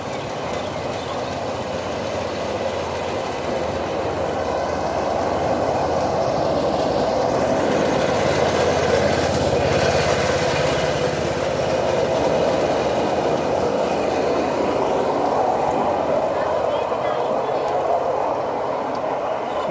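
A train rumbles along the Death Railway near the bridge on the River Kwai, a continuous heavy roll that swells toward the middle and stays loud throughout, with faint voices in the background.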